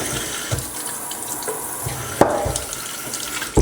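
Water runs from a faucet into a sink in a cabin kitchen, a steady rushing splash broken by a few sharp knocks and clunks nearby, with no one speaking.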